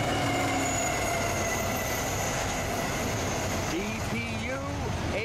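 A CSX freight train rolls steadily past nearby, a continuous rumble with wheel hum and a few squealing flange screeches toward the end, while a person talks over it.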